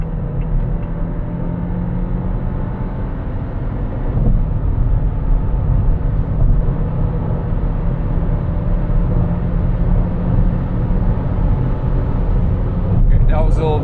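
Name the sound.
Geely Cityray 174 HP car accelerating at full throttle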